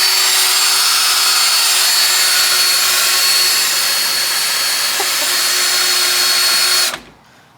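An electric power drill whines at high speed in a workshop for about seven seconds, loud and close. It holds a constant pitch, then cuts off and spins down.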